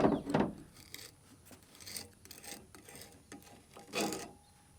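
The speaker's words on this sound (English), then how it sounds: "That cold patch material can get pretty nasty, so I'm just going to try and scrape it off." Cold patch asphalt is scraped off a garden hoe blade in short rasping strokes, several scrapes with pauses between, close and fairly quiet with no voice.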